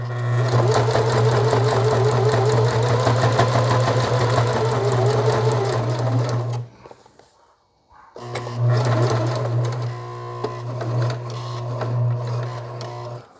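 Sewing machine stitching elastic into a hat made from a beer box, running in a loud steady drone for several seconds, pausing briefly, then starting again and running on to the end; no one speaks.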